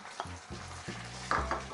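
Meat and onion sizzle in a pan, a quiet steady frying hiss broken by a few stirring scrapes and clacks, close by with no talk.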